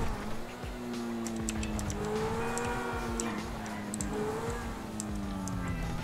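Car engine in GTA V driving along steadily, with tonal engine hum and shifting pitch as it moves, continuous and moderately close.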